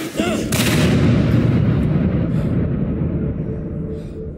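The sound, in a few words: gunshot in the video game Indika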